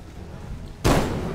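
A single loud, close gunshot bursts out in the Bigfoot video game after a quiet ambient stretch, its blast ringing out to the end.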